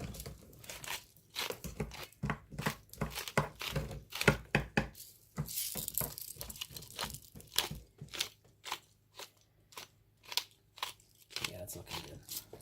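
A salt and pepper grinder cranks out pepper over food, making quick, close crunching bursts in an uneven rhythm, fairly quiet, with soft clatter between turns.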